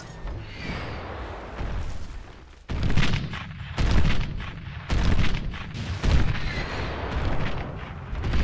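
Hover tanks fire on an extremely heavy tank in the strategy game Beyond All Reason, a series of heavy booming shots roughly once a second with rumbling impacts and battle noise between them.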